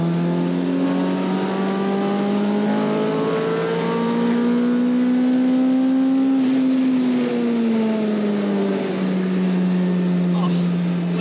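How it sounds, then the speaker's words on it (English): A Lotus Elise exhaust revs up and down in a loud, droning roar, rising in pitch then settling, close and continuous. "give you guys a little bit more of that tone of the exhaust"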